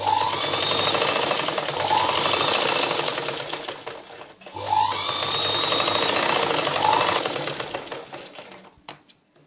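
A sewing machine stitches a blouse in two sustained runs of rapid, even mechanical chatter, each slowing to a stop, with a brief pause between them.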